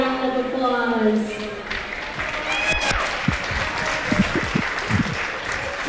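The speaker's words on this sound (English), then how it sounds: "We can give them a big round of applause." Crowd applause at a district high school football championship, broad and steady throughout, with a public-address voice and an echoing announcement ringing over it in the stadium.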